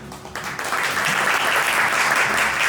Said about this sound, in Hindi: जोरदार तालियों के साथ आज के इस खूबसूरत इवेंट की हम शुरुआत करते हैं